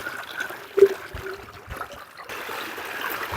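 Jivamrut mixed with water trickles from a tap into an irrigation channel in a cumin field, a soft, steady outdoor dribble with a brief louder splash, running alone without talk.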